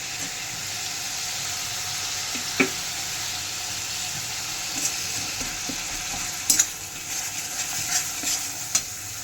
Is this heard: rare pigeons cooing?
no